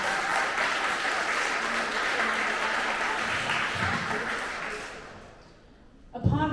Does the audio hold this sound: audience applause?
yes